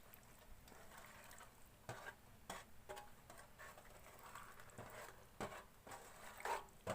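A coffee jelly Milo drink mixture with cubed gelatin gets stirred in a container, giving soft scraping swirls punctuated by intermittent clinks and knocks of the utensil, faint and close.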